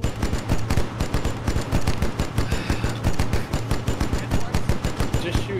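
Rapid sustained automatic gunfire from guns in the Arma video game, loud and close, with dense overlapping bursts from several weapons firing continuously throughout.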